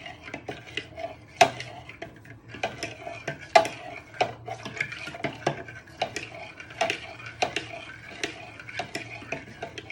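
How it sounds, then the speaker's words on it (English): A spoon stirs a mixture around a bowl for pita bread served with lamb kebabs, giving steady scraping with frequent sharp clinks of metal against the bowl, close and fairly quiet, with no talking. "Just give it a good stir for 60 seconds"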